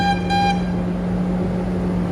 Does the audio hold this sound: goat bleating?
no